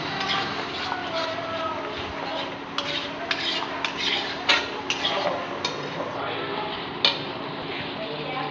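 Nonstop scraping and clinking of a spoon or spatula in a pan while a garlic, onion and tomato paste with salt, turmeric and chilli powder is stirred and fried, sharp metallic taps standing out now and then over a steady kitchen background.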